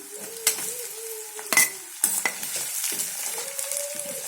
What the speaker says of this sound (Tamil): தக்காளி போட்டு நல்லா உப்பு கொஞ்சம் போட்டு வதக்கிக்கணும்